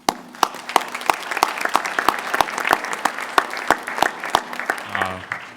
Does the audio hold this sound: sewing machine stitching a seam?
no